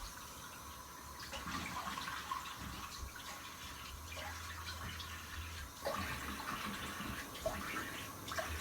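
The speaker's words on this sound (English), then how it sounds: "I'm just gonna rinse my face with cold water." Cold water runs from a tap while a face is rinsed in a bathroom sink, a soft steady splashing and trickle with small irregular shifts, close and fairly quiet.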